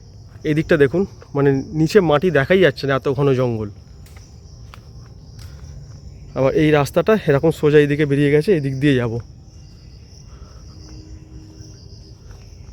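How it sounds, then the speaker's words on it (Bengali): Crickets chirp steadily in a dense, jungle-like monsoon garden, a constant high thin trill in the background while someone talks over it in two long stretches. "আর চারিদিকে কিন্তু প্রচুর ঝিঝি পোকা ডাকছে"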